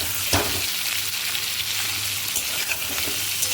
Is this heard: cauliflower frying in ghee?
yes